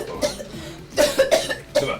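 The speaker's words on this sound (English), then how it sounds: "Let her cough up all the venom in her system." A few short, harsh coughs close by, coming in a quick cluster of three or four bursts.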